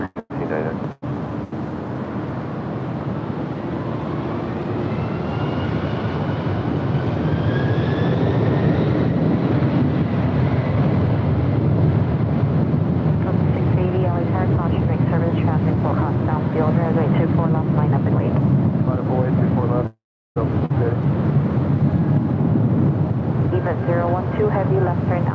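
A heavy Delta airliner takes off from runway 24 left at LAX, its steady, loud engine roar filling the whole stretch with a rising whine, while air traffic control radio chatter runs over it.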